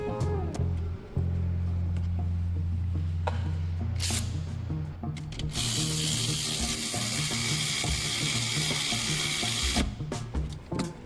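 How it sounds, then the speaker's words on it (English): Ratchet wrench tightening 13mm nuts on a Maserati Ghibli battery during replacement, with a steady run of rapid, close pawl clicks, faster bursts of ratcheting near the middle and a brief low hum at the start. "Install and tighten the 13mm nuts."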